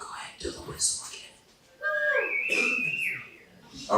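A single long whistled tone, steady then sliding, rings out loud and clear in the middle, with a crowd murmuring and reacting around it at a nerd-themed talk night in Louisville.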